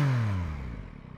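Revs on a 2021 Yamaha MT-09 with its stock exhaust drop quickly from a loud, high pitch and settle into a low, pulsing rumble near idle, heard close up.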